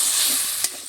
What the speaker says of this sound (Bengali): এবারে আমি এখানে একটু পরিমাণ মতো জল দিয়ে দিচ্ছি